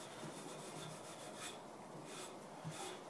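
A lint-free cloth rubs across a wooden turned goblet, giving a soft, steady scuffing hiss with faint rhythmic strokes, quiet and close with no talking.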